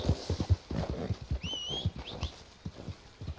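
Horse hooves in Red Dead Redemption 2 clip-clop in a steady trotting rhythm, fairly close and distinct, with a brief bird chirp above and no talking.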